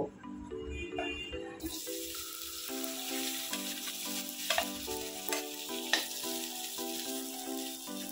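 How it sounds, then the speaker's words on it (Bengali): Chopped vegetables for kadai paneer frying over high flame in a wok, with a bright, steady sizzle that swells after a quieter start, a few clanks of stirring, and background music playing underneath. "এবার এই কড়ার মধ্যে আমি যে সবজিগুলো কেটে রেখেছিলাম সেগুলো দিয়ে দেব। একদম খুব হালকা করে ভেজে নেব।"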